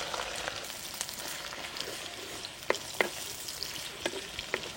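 Chopped onions hit hot ghee with whole garam masala spices and cinnamon pieces for a Hyderabadi mutton marag, giving a steady close sizzle with a few sharp stirring clicks and no voices.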